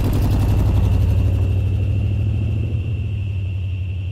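A car's engine rumbles steadily and loud at first, then fades slightly as the vehicle pulls away, with a faint high whine persisting over the low drone.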